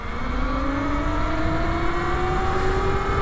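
A Talaria Sting electric motorbike fitted with a Torp controller runs at full throttle, its motor whine climbing steadily in pitch over loud rushing wind and road noise.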